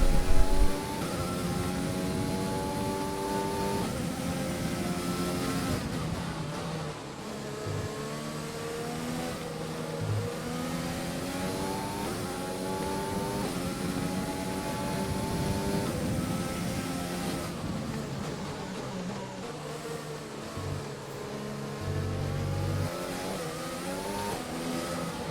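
Formula 1 race cars in the video game F1 2020 scream continuously through an online ranked race's final lap, the engine whine rising and falling with gear changes and other cars running close, with no talk.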